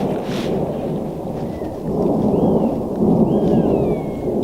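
Steady rain pours down at a tent campsite, a dense loud hiss of falling drops that swells after a couple of seconds, with faint bird calls sliding through above it.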